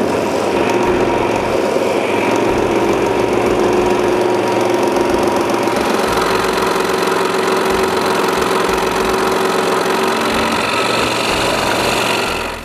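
A saw cutting walnut pieces for a lighthouse intarsia: a loud, steady motor drone with a fast rapid chatter of the blade running continuously, close, and with no speech.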